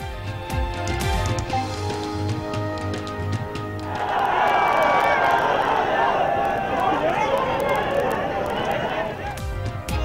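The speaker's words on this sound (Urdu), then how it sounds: "لاہور ریلوے اسٹیڈیم میں کھیلوں کی تقریب میں خواجہ سعد رفیق کی موجودگی میں حکومت مخالف نعرے لگ گئے" Crowd at a sports ceremony in Lahore Railway Stadium raising anti-government slogans, a loud surging roar of many voices shouting together that swells in after a few seconds of other sound and carries to the end.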